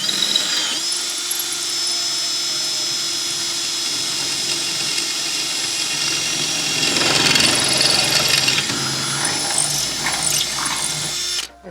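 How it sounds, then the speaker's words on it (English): A power drill whirs steadily and close while the chuck is tightened during a repair of an Ifor Williams trailer hinge, its pitch shifting near the end before it stops. "Tighten the chuck."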